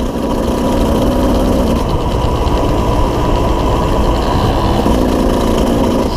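A loaner dirt bike idles nearby, its engine giving a loud, steady low rumble with a rapid knocking pulse that holds even throughout, no voices over it.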